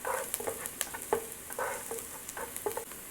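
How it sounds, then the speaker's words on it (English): Garlic sautéing with onion in a pan, a soft sizzle with repeated scraping stirs of a spoon in quick irregular strokes, close and fairly quiet with no talking. "I'm going to add some garlic. Just cook them. Saute it for just a couple of seconds."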